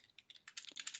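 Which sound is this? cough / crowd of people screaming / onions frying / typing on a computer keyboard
typing on a computer keyboard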